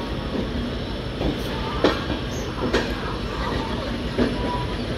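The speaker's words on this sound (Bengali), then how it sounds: "ট্রেনটা অনেক বড়, তাই না? মানে শেষই হচ্ছে না।" A long passenger express train rolls past at Howrah station on Indian Railways, a steady close rumble with faint wheel clicks and brief brighter squeals recurring throughout.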